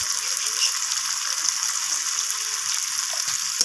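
Spices fry with vegetables in a pan while being stirred, giving a continuous close, bright sizzle with faint scraping under it and no pauses.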